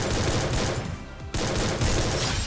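Dense gunfire from the video game Free Fire, rapid overlapping shots filling the clip, loud and continuous apart from a brief lull near the middle.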